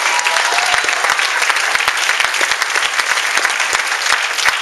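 A church congregation at an Iglesia Misión Divina service applauds, with dense, steady clapping that stays loud and continuous the whole time and no talk over it.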